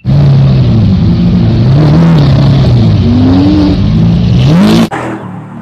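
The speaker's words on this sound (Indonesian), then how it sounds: "Wow, mobil Lamborghini warna hijau." A green Lamborghini sports car revs hard and loud, its engine note rising and falling through several climbs for nearly five seconds before a sharp cutoff, followed by a quieter tail.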